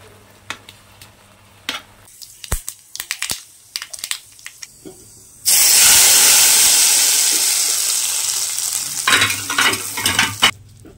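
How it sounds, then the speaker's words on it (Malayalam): Mustard seeds hit hot oil in a home kitchen and burst into a loud, close, hissing splutter that fades slowly, framed by scattered utensil clinks and knocks before and after. "എന്നിട്ട് കടുക് വറുക്കട്ടെ."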